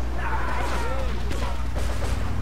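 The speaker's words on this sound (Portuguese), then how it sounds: "Toma bala do cartel, ó." Gunfire from a cartel in GTA 3 Definitive Edition crackles in quick bursts, several sharp shots over a low game rumble, with a steady mix of background noise.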